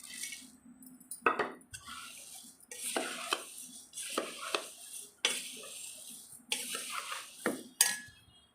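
A spoon stirs puffed rice snack with black salt in a bowl, making repeated close metallic scrapes and clinks in short strokes roughly once a second, with dry rustling between them and no voices.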